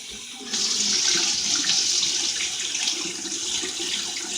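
Water pours steadily from a tap to wet a shaving brush with a black synthetic knot, a close hiss that starts suddenly and keeps running without talk.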